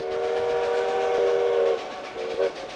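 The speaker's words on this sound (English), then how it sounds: "Whoa, I'm on a train now." A steam train in a video game rolls along with a loud, close, sustained whistle that holds for over a second and then gives two shorter blasts over the rumble of the cars, with no talking.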